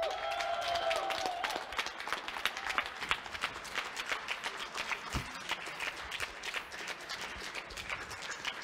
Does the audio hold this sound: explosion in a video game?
no